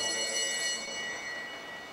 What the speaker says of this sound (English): And they get the bell.